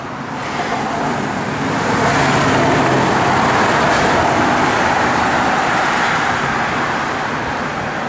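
A 1970 Chevrolet Chevelle SS 454 V8 with a Holley dual-feed four-barrel carburetor runs steadily, a broad continuous engine roar with no talking over it.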